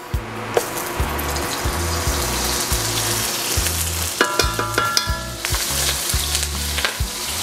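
Olive oil and butter sizzle loudly in a pan for pasta, a steady close crackle with faint tapping and clinks of utensils scattered through it and no talk.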